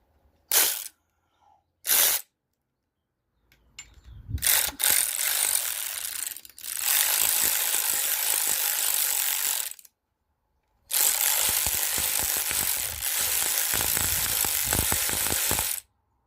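A socket ratchet works an 11 mm bolt on a Peugeot 504 XD2 diesel engine, starting with a few short clicks, then long runs of rapid, loud ratcheting close by, broken by a brief pause, with no talking.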